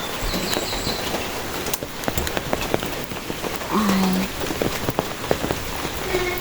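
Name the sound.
rain falling during rainy season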